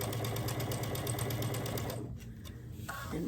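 A sewing machine stitching a quilt block at a quarter-inch seam, a fast steady rhythmic whir of the needle for about two seconds that then stops, followed by quieter handling sounds.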